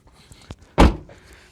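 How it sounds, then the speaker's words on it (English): A Toyota WiLL Vi car door slams shut once with a loud, solid thunk, preceded by a softer click of the handle and followed by quiet cabin ambience. "Let's shut that door properly."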